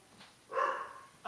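A single short bark or yelp from a puppy, fairly close, rising out of quiet room noise, with a faint sound just before it.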